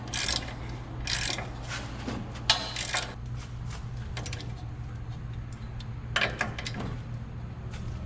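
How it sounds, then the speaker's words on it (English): Close, quick bursts of ratchet clicking tighten a 19mm upper control arm nut on a Toyota Tacoma during a leveling kit install, over a steady low background hum. "now we can tighten this 19mm nut here for the upper control arm"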